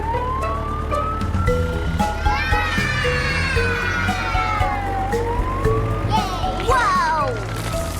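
A police car siren wails in rising and falling sweeps over a bouncy children's nursery rhyme, loud and continuous, with children's voices singing and laughing alongside.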